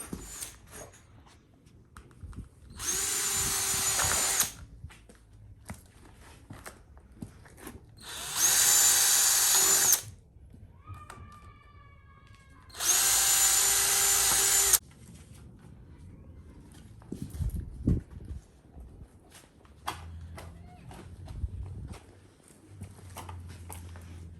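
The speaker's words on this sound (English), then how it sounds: "So we're about to drill this out real quick." A power drill bores holes in a part for a 2004 Ford Mustang Mach 1, running in three steady bursts of a few seconds each with short pauses between, loud and close, with no talking.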